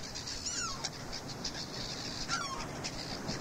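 Seagulls give two sets of squealing calls at a distance above a steady wash of wind and surf near the shore.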